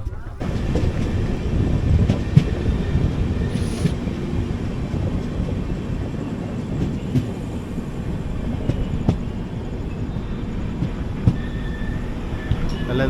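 The 22677 Yesvantpur–Kochuveli AC Express rolls toward Salem Junction at night, a loud steady rumble of wheels on track with occasional metallic squeals, clicks and wind buffeting the microphone throughout.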